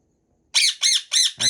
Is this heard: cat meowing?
no